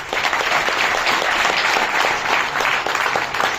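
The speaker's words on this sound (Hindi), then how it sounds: "आप सभी बैठे हम एक दूसरे का स्वागत ताली बजाकर करते हैं" Seated guests at a health and wealth seminar clap together in welcome, a dense, steady burst of applause filling the room with no talking over it.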